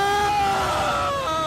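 Loud, sustained high-pitched wailing and screaming from people amid the destruction of a glacier burst flood in Chamoli, voices overlapping in anguished cries for about a second and a half.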